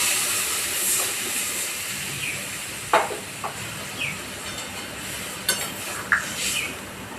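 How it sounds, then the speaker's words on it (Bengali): Water poured into a hot pan of fried cauliflower and potato sets off a steady steamy hiss, broken by a few soft clinks and scrapes close by. "এখন আমি জল দিয়ে দিচ্ছি।"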